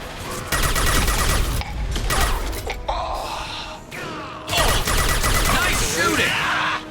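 Gunfire in the video game Mass Effect 2, dense bursts of shots and crashing impacts in loud stretches broken by brief lulls, with voices talking over the combat.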